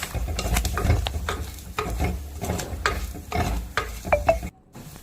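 Chili, black pepper, fenugreek and turmeric powders sautéed in a pan for a fish curry, with a steady close sizzle broken by repeated scraping stirs, no voices.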